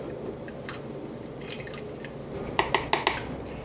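Blended soup pushed through a sieve, soft scraping followed by a quick run of close liquid drips and splats near the end.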